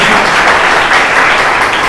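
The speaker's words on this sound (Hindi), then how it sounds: "परमेश्वर जोर से ताली बजाइए" A church congregation claps loudly and steadily throughout a Sunday service, a dense, continuous wash of many hands with no gaps.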